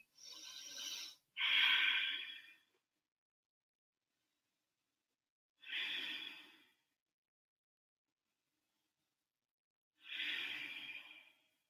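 Slow, audible breaths during a yoga forward fold, close and soft: a paired inhale and exhale, then two more breaths separated by long silences of several seconds.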